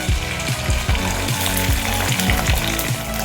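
Okra frying in about two tablespoons of coconut oil in a pan, a steady loud sizzle with bursts of crackle throughout and no talking.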